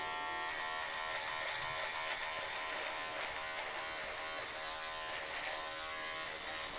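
A T9 Vintage hair and beard trimmer buzzes steadily and close up for the whole stretch, a constant electric whine with no talking.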